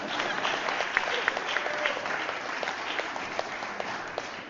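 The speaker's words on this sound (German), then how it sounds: "und nochmal einen Applaus" Audience applause at a staged parody mass performance, a steady wash of many hands clapping throughout, with a few sharper claps standing out near the front.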